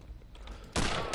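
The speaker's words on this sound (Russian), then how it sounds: "Они очень хорошо стреляют." Gunfire from a firefight in the Return to Castle Wolfenstein video game, a loud sudden burst of dense shots after a quieter stretch, continuing almost to the end.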